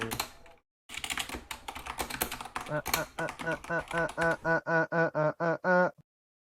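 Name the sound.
typing on a keyboard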